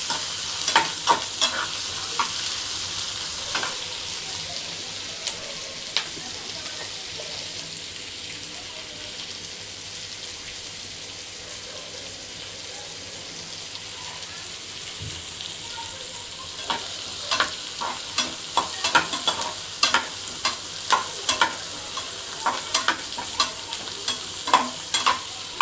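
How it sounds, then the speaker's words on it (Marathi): Chopped onion fries in a pan for a Maharashtrian masoor dal, with a continuous sizzle and repeated sharp spoon scrapes and taps that grow busier toward the end. "आपला कांदा भाजला आहे।"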